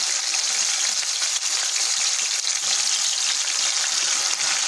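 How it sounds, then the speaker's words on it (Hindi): Mustard greens for sarson ka saag go into a pan of hot ginger tempering, giving a steady, loud sizzle and frying hiss that stays constant throughout with no talking. "अब हमने जितना साग खाना है हम इसमें डाल देंगे।"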